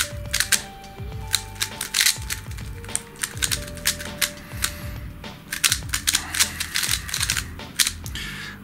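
A QiYi Thunderclap v3 M 3x3 speed cube is turned quickly, giving bursts of sharp plastic clicks and clacks in an uneven rhythm, close and fairly loud, with a faint background hum.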